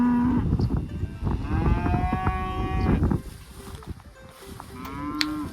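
Cattle moo loudly and close by during one-man sorting without a corral, several long drawn-out calls at first, then quieter, shorter lows later.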